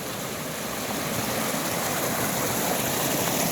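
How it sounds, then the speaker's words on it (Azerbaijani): A hillside stream in a valley, its water rushing in a dense, steady, fairly loud flow with no pauses and no voices. "Dərənin suyu bir çayın suyu qədər var."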